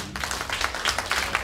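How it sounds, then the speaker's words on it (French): Audience applause at a Guinean music event in Atlanta, a steady dense patter of many hands clapping at moderate volume across the whole stretch, with no voices standing out. "je vous prie pour l'amour de Dieu d'applaudir M. Baldé."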